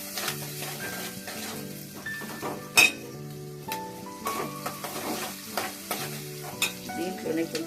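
Ground spice powder being stirred into mutton and tomato curry frying with onion and green chillies, with steady scraping and clinking of a spoon against the pan over a continuous sizzle and one sharp knock partway through.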